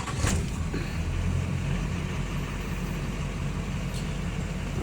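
A 2005 Chevy 2500HD truck engine runs steadily after being cranked up, a constant low rumble close by with a faint hiss over it and no talk.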